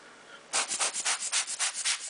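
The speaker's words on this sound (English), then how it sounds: "Now I'll use the rocket blower, but I'll hold it upside down the lens" A quick series of about a dozen breathy air puffs, close and rhythmic, from a rocket blower squeezed repeatedly to clean a camera lens.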